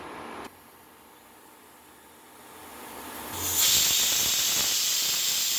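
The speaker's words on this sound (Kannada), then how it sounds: "ಅದನ್ನು ವೆಯ್ಟ್ ಹಾಕಿ ಸ್ಟೀಮ್ ಬರ್ತಿದ್ದಂಗೆ ವೆಯ್ಟ್ ಹಾಕಿದೆ" Steady hiss of steam from a pressure cooker with its weight on, quieter at first, then swelling into a loud, bright rushing release that holds to the end.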